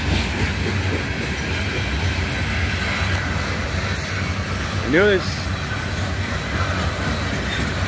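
A CN ballast train led by ET44AC and ES44AC locomotives rolls past with a steady rumble and rattle of cars, a brief wheel squeal rising near the middle, while a person talks over it.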